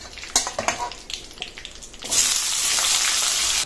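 Pumpkin and potato go into oil already fried with spices and curry leaves. A few sharp clatters of stirring give way abruptly to a loud, sustained, close sizzle that holds steady to the end.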